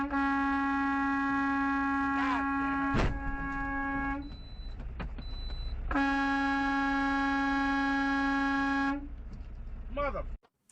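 A car horn blares in two long, loud, close blasts separated by a short gap, with a brief extra tap between them.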